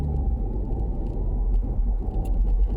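A car drives along with a steady, loud low rumble of engine and road noise, close and continuous, with no other sounds standing out.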